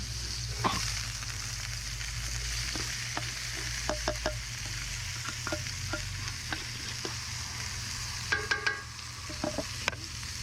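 Celery and onions frying in olive oil and butter over an open fire, a steady close sizzle with scattered sharp crackles and pops, thickening into a cluster of pops near the end.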